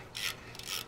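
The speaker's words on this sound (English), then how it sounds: "right side nut off of there" Ratchet wrench working the right-side swingarm nut loose on a Harley-Davidson Softail, 1984–2017 model, during swingarm bearing replacement; two quick bursts of clicking, close and fairly faint.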